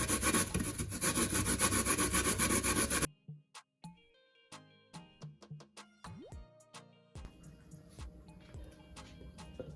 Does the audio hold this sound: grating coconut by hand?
yes